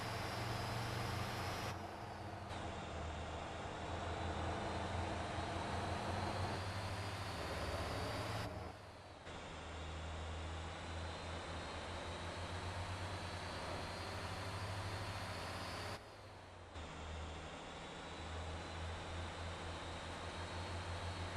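Steady, loud drone of a medium truck engine in the driving game Motor Town, a broad continuous roar with a low rumble that cuts out briefly a few times, with no voices.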